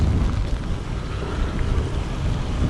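Steady wind buffeting the microphone during a rainy tropical storm in Baguio City, a low rumbling roar throughout with gusty swells, no voices.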